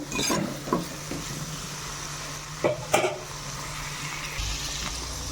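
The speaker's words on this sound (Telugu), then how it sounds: "ఇలా హై ఫ్లేమ్లో హై ఫ్లేమ్ పెట్టుకొని చక్కగా వేయించుకుందాం" Food fries on a high flame in a pan, a steady sizzle with a few louder stirring scrapes and clinks close by, no talk over it.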